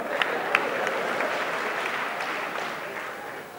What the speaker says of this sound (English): Is somebody clapping for the Lord?